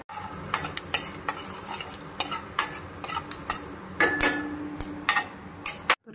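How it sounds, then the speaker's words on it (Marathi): Coriander seeds and a small piece of cinnamon frying in hot oil for a Maharashtrian kat amti, with steady soft sizzling and repeated sharp spoon scrapes and clinks against the pan, close and without talk. "ह्या तेलामध्ये धने छान परतून घ्यायचे"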